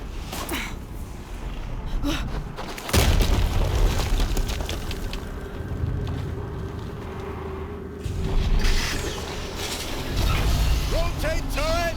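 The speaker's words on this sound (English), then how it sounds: "Another explosion." Explosions boom in the video game Horizon Zero Dawn Remastered amid loud rumbling game action, with heavy low blasts around the third and ninth seconds and voices speaking over the din.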